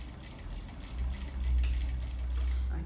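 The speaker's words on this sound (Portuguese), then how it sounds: "vai passar uma costura pé de máquina aqui" A sewing machine stitches a patchwork dish towel nearby, a steady low mechanical whir with faint rhythmic clicking that rises slightly midway and holds, with no talk.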